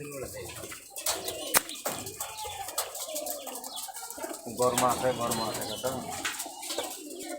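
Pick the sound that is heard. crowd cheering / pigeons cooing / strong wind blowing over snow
pigeons cooing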